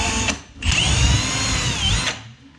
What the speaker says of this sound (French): Je vais percer, j'espère que je vais pas être dans de la ferraille.